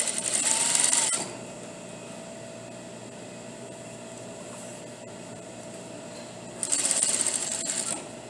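A sewing machine stitches a collar into a dress bodice, running in a steady continuous whir with a brighter, louder burst at the start and again near the end, close and alone without talk.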